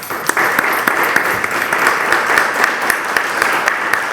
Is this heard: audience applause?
yes